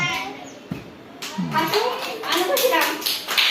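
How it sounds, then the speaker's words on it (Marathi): Children clap during an outdoor frog-jump game played around bottles, a loose scatter of claps breaking in after a quiet start, mixed with an adult and kids talking. "चल टाळ्या वाजवा बरं का रे"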